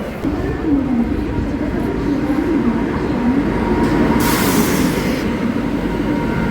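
A train rumbles in with a low continuous roar and a faint wavering tone, steady and close, with a brief brighter hiss near the end.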